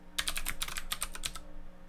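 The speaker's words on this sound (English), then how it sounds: "so let me type this out, and this keyboard" Quick, close clatter of fingers typing on a computer keyboard, a dense run of crisp key clicks for about a second and a half, with no one talking.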